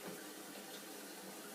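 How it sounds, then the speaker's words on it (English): Water rushing steadily into a Caroma Stylus toilet cistern as it refills after the valve is reopened, a continuous close hiss without pause. "So turn back the valve to get the water back in. Let it fill up."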